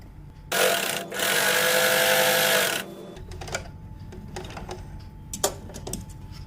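A sewing machine stitches a strip for a newborn baby cap in two quick whirring bursts, the longer one lasting about two seconds, followed by quieter clicks and handling of the fabric.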